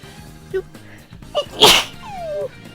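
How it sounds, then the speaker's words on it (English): A single loud sneeze bursts out after a couple of small breathy sounds, followed by a brief rising vocal exclamation. "Oh my gosh, I have to sneeze."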